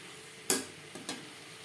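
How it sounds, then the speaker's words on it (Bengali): A spoon stirs chopped tomatoes into fried onion and chili in a pan, giving three short scraping strokes, the first loudest, over a faint background hiss. "ভাজা পেঁয়াজ ও লঙ্কার সাথে টমেটো বেশ ভালো করে মিক্সড করে দেবো"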